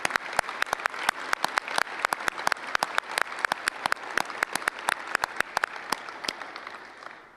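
An audience at a research investigators' workshop gives a round of applause, with scattered individual claps standing out over a steady crowd clatter that thins toward the end.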